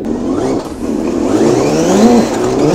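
Remote-control Nissan Skyline R34 model car driving with a servo-operated throttle, giving a steady mid-pitched motor whir that rises and falls in pitch like revving, continuous and close.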